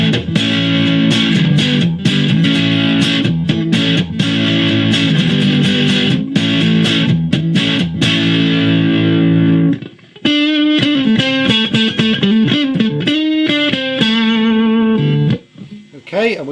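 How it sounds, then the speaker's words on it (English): A homemade electric guitar plays through an amplifier with a crunchy overdriven tone and no reverb, first chunky held chords, then after a short pause a run of single bending notes. "Now let's put some bit of crunch on the amplifier."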